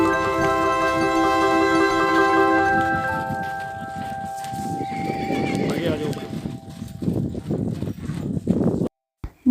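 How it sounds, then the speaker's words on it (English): Horses at a horse farm whinny and neigh loudly nearby, followed by shuffling hoof clops and movement, with a few brief knocks at the end. "We saw more horses there."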